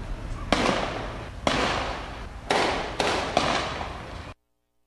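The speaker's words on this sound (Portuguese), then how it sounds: "Escuta só o tiroteio que teve lá ontem à noite." Gunshots from a night-time shootout in the Itacibá neighbourhood of Cariacica, four loud sharp bangs spaced about a second apart, each trailing into a long echoing decay, with no voices.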